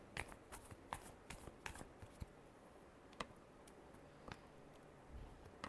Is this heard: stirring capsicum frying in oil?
no